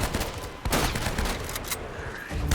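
Gunfire in the video game Uncharted: Drake's Fortune, a rapid burst of shots layered in a dense loud volley with sharp cracks cutting through.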